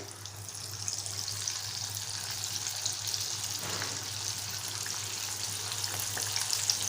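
Chicken lollipops deep-frying in oil, a constant bubbling crackle at low volume over a steady hum, with a faint swell partway through and no speech.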